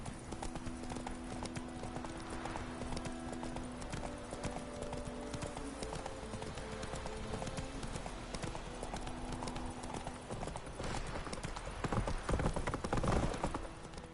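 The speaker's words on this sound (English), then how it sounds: "Not so fast, Roach" In The Witcher 3, a horse trots with rhythmic clip-clop hoofbeats held steady under a soft, constant game ambience, getting a little louder near the end.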